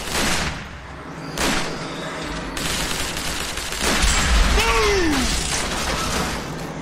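Gunfire in Transformers: War for Cybertron, with several loud bursts and booms mixed with mechanical clanks and a rising whirring tone midway, all close and busy.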